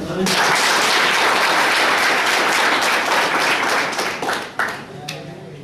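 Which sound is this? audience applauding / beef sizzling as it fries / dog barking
audience applauding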